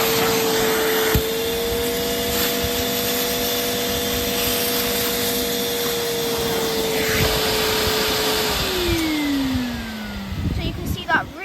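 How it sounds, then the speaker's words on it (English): A carpet cleaner motor runs with a steady, loud suction whine as it pulls dirty cleaning solution out of a wet, barbecue-sauce-stained carpet, its pitch sliding down near the end. "And then you turn on the motor and suck up all the dirty solution."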